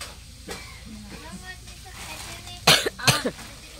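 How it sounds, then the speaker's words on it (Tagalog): Two sharp, harsh coughs close together near the end, following a stretch of quiet background chatter and clatter. "Ang ubo."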